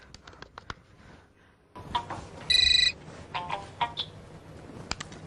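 Mobile phone ringtone chiming in a short repeated burst as a call goes through, over a quiet indoor room with faint clicks and rustling before and after.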